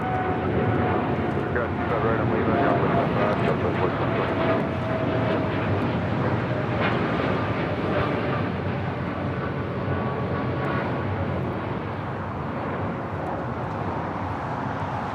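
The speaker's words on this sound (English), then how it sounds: "788 taking off to Toronto on a 787-8 Dreamliner." An Air Canada Boeing 787-8 Dreamliner bound for Toronto takes off at LAX, its engines holding a loud, sustained roar with whining tones that eases slightly toward the end.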